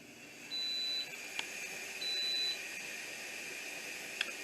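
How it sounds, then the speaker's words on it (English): Two short electronic beeps from a Nesco electric pressure canner finishing its cycle sound about a second apart over a steady background hiss, followed by faint clicks. "It beeped, and as you can see, it says off."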